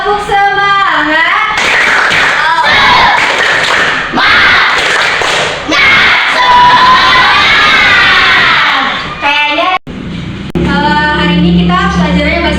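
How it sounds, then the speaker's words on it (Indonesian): A classroom of children performs a rhythmic clapping chant led by a teacher, with sharp claps mixed with loud shouted and chanted voices, followed by the teacher speaking. "Oke, tepuk semangat ya."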